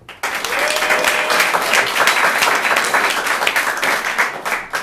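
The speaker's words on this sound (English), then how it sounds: "Clap your hands if you have seen improv before." An improv comedy show audience bursts into dense, loud applause, many hands clapping together steadily for several seconds before tapering slightly.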